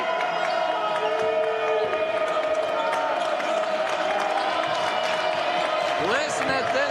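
Basketball arena crowd at a Ferris State at Northern Michigan game roaring steadily after a made shot, a loud continuous wall of cheering with a sustained tone and squeaks mixed in.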